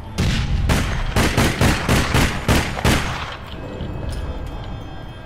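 Rapid rifle fire in APB: Reloaded, a run of about ten loud, evenly spaced shots over three seconds, then the burst stops and faint ambient game noise remains.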